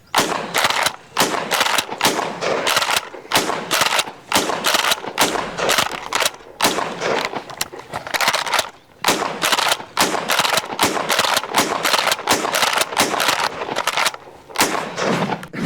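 A Smith & Wesson M&P 12 12-gauge pump shotgun fires a long, rapid string of loud, close blasts in quick succession, separated only by brief gaps, with no talk over the shooting.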